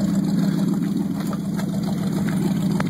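A 1968 Dodge Dart GT 340 V8 engine idles steadily in a low, continuous rumble, close by, with faint clicks and ticks over the drone.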